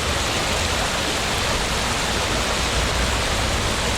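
Flooded creek rushing and spilling over its banks during heavy rain, a constant loud broadband roar of churning water with no pauses.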